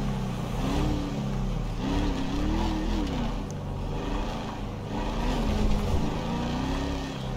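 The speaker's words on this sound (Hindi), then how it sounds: "मजा आ रहा है गाड़ी चलाने में, बहुत अच्छी लग रही है।" A car engine drones through a GTA 5 drive up into the hills of Rockford Hills. The pitch rises and falls with throttle in a steady, moderately loud run and no talk.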